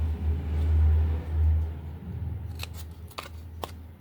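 Scissors cut paper for a handmade octagon gift box, giving a few quick, sharp snips close by near the end, over a steady low rumble.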